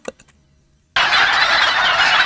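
A flock of chickens in a Godot indie island game, starting after a second of near-silence and then swelling into a loud, dense, continuous wall of overlapping clucking and squawking.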